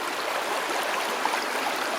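A Montana river stream flowing over rocks and gravel, a constant close rushing babble with no voices.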